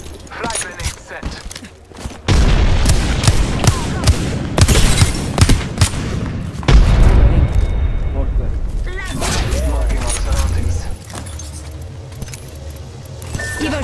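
Frag grenade blasts and rapid gunfire in a shooter video game, sharp bursts of shots and heavy booms crowding together after a quieter start, with voices talking over the combat.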